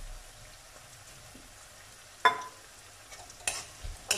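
Asafoetida and dried fenugreek leaves are stirred and fried in a pan for a spicy chickpea curry, giving a soft steady sizzle broken by a few sharp utensil scrapes and clicks near the end.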